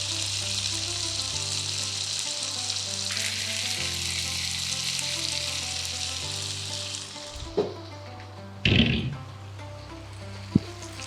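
Boiled chicken pieces fry in hot oil for Kung Pao chicken, a loud, dense, continuous sizzle that drops away near the end, where a few sharp clanks of a utensil on the pan stand out. No one speaks.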